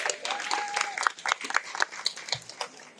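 Outdoor street crowd at a gymnastics show gives a short, moderate round of scattered clapping, with a voice briefly audible near the start.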